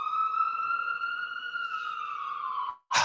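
A downtown emergency siren wails loudly and close, one sustained tone with strong harmonics gliding slowly downward for nearly three seconds, then breaking off and restarting abruptly.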